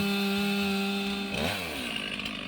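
A chainsaw idles with a steady high drone, then bites into a hollow tree, its pitch dipping and wavering as the chain loads up in the wood, loud and close.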